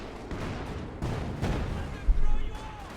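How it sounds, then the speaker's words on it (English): Artillery fire and explosions in a Company of Heroes 2 match with a field gun in action, dull booming blasts and rumbling impacts repeating over a few seconds beneath battle noise. "Lots of explosion, lots of death."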